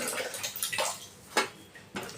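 About half a tumbler of water is poured into mango pachadi cooking in a pan, a close, soft splashing pour with a few sharper sloshes.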